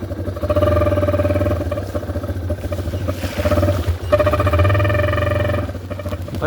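A dirt bike engine with an air horn fitted in its exhaust drones and revs loudly nearby as it rides through a small muddy ditch, with steady throttle, a brief dip and then a renewed surge.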